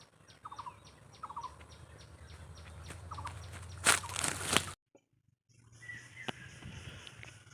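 A duck quacking outdoors by a road in the afternoon: a few short, distant quacks over background noise, a louder rustling burst, then a brief near-silence.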